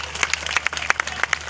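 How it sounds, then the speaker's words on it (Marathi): A crowd at an outdoor wrestling match claps steadily, a dense patter of many hands at fairly close range, continuous and lively for the whole moment. "टाळ्या करा जरा पुन्हा एकदा."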